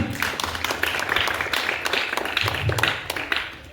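A crowd at a swimming event at a club and resort breaks into applause, a close, steady patter of many hands clapping for a few seconds that fades at the end.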